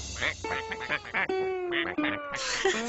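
Several bright, nasal quacks from a cartoon duck in quick bursts, with cartoon-like music and voices mixed around them.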